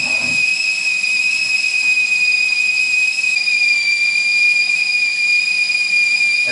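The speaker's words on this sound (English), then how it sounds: "And now at the stove we can hear the whistling, so we know the water is boiling" A stovetop kettle whistles loudly and steadily as water boils for French press coffee, a sustained piercing tone over a faint hiss with no voices.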